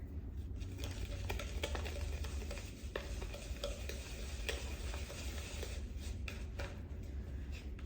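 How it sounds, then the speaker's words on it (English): Egg being whisked into crepe batter in a bowl, a steady quiet patter of rapid whisk strokes with clicking taps, continuous and close. "And add your egg. Go ahead and give it a whisk."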